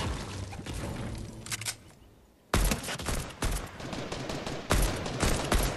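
Video game gunfire rattles in rapid bursts at the player, loud close volleys broken by a brief quiet gap before the shooting resumes.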